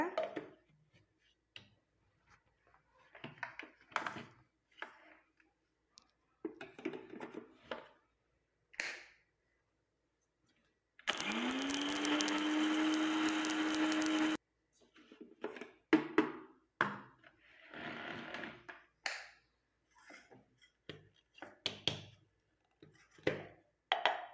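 A mixer grinder whirs loudly for about three seconds, spinning up with a rising whine as it grinds curry leaves and other ingredients into powder for a homemade hair dye. Scattered talking and small handling sounds come before and after.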